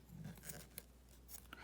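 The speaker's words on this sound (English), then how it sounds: "and you want to snip down the bottom of your earring" Scissors snip the bottom of a denim earring, a few short crisp cuts close up in a quiet room, with no talk.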